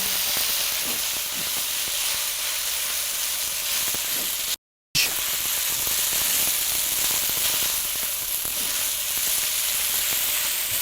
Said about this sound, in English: I'm going to go ahead and toss the pasta back in. And I'm going to work it around, trying to get all of the butter incorporated into the pasta.